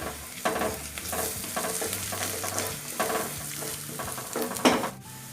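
Spoon stirring asafoetida, chilli powder and salt in a pan for potato bonda, giving a steady scraping and soft sizzle with a few sharper clinks near the end, close and alone with no speech.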